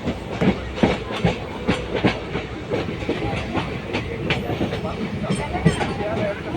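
A passenger train on the forest line from Palakkad to Kozhikode rolls along the track, with steady rhythmic clickety-clack of wheels over rail joints under a constant rumble, heard from aboard.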